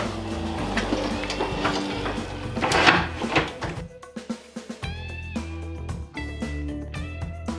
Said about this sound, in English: when it's time to use the planer, all I have to do is loosen these knobs on the 4 corners and the whole thing flips